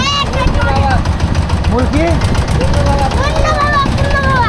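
Boat engine chugging steadily on the Punarbhaba river near Porsha, Naogaon, a constant low rumble throughout with people talking over it.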